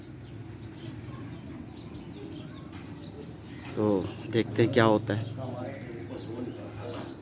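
A large pigeon perched nearby gives a brief run of soft, low cooing notes in the middle, faint over steady outdoor background hum, with someone talking around it.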